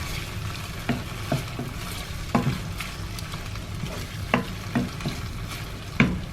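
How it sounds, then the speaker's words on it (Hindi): Liver stir-frying in a pan, Hyderabadi style, with a steady close sizzle broken by about a dozen sharp scrapes and clacks of a spatula against the pan. "इसे हम भूनेंगे।"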